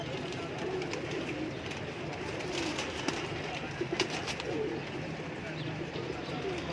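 Breeder pigeons cooing on a rooftop in Lahore Cantonment, soft throaty coos and fluttering set against steady outdoor background noise, with someone talking faintly nearby.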